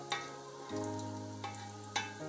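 Onions fry toward light brown in oil for chicken karahi, giving a steady sizzle with a few sharp stirring scrapes, set under a sustained tonal background.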